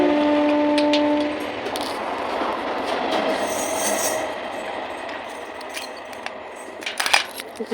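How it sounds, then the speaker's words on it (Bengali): A passing train rumbles steadily at moderate volume, with broadband wheel-on-rail noise that slowly fades over several seconds, a brief tonal hum at the start and a few sharp clanks near the end. "ওই দেখো ট্রেন যাচ্ছে"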